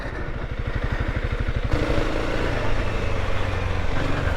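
A motorcycle engine revs and labors steadily, rattling loudly at close range as it rides over rough single-track trail.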